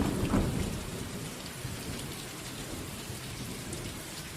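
Steady heavy rain pours down with deep thunder rumbling through a stormy night, a dense continuous wash of sound with no voices.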